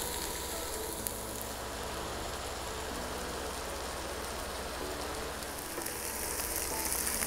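Mushrooms fry in a pan, cooking down toward caramelization with a steady, soft sizzle and crackle that holds evenly throughout, fairly quiet and without talk.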